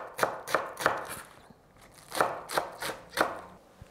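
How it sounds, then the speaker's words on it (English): A knife chopping half a medium onion and thin green onions on a cutting board: seven crisp, evenly spaced chops in two quick groups with a short pause between, close and clear with no talk. "1/2 of a medium onion. You just chop it small."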